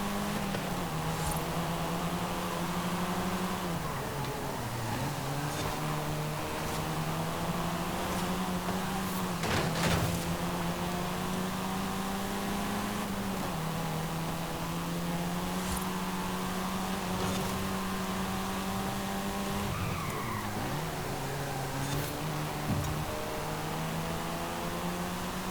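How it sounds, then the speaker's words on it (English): High-revving car engine in the racing game Forza Horizon 5, a loud continuous engine drone that rises and falls with gear changes and throttle lifts over about half a minute. "The highest revving engine we've used in this championship"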